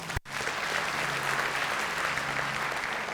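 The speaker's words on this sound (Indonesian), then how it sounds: "Tepuk tangan Tuhan Yesus." Applause from a church congregation at a Jakarta sermon gathering, a dense steady wash of clapping that holds evenly after a brief cut at the start, with a low hum underneath.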